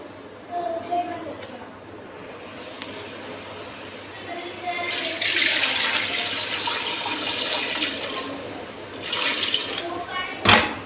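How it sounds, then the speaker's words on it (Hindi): Water pours and splashes into a metal pressure cooker in two bursts, with a faint voice and kitchen clatter in the background. "पानी डालना है इसमें।"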